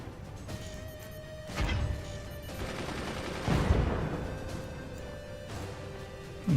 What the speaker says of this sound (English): And he's now missing his mortar shots.